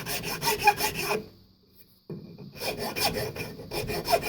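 Rasping, filing strokes on a wooden tanto as its back end is trimmed, rhythmic and close, stopping for about a second before the scraping resumes.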